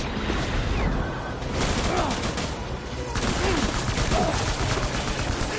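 Rapid, loud gunfire in Death Stranding as enemies are shot at, sustained bursts with short gaps under a dense game soundscape.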